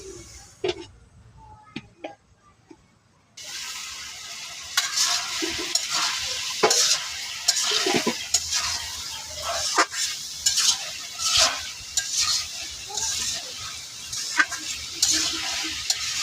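Fish curry made with small gura fish is sautéed in a pan, with a spoon scraping and stirring through a steady sizzle. Quiet taps come first, then frying noise with repeated close scrapes.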